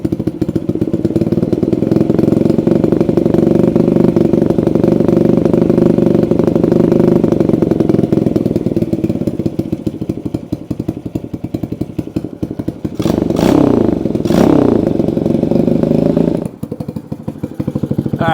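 An Xpro X9 125 motorcycle engine idles loudly and close by after assembly, a steady rough chugging that holds for most of the stretch, with a couple of brief throttle changes near the end before it settles lower.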